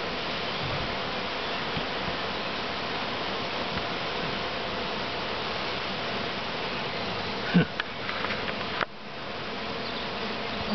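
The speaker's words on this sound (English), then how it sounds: "Very loud buzzing." Steady, dense buzzing of many honeybees close by, continuous throughout, with a brief rustle and bump near the end.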